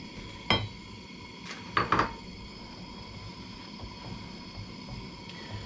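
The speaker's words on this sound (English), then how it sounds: "we can stir in the sugar" A utensil clinks and scrapes against a metal pot a few times while stirring sugar into melted butter, sparse, light taps over a quiet kitchen background.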